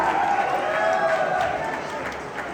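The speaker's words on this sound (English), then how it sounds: "Give them a big round of applause." An audience at an award ceremony applauds the volleyball boys' prize winners with sustained, dense clapping that fades slightly toward the end.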